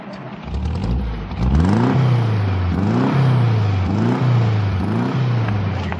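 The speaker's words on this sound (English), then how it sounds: "the world's most loved car, the Volkswagen Beetle" A Volkswagen Beetle engine revs up repeatedly, each gear climbing in a rising whine before dropping back, loud and close with a steady rhythmic pull through several shifts.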